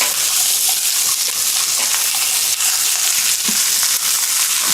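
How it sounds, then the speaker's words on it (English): Onion frying in a pan, a steady bright sizzle with soft scraping as it is stirred, close and continuous. "Stir my onion a little bit."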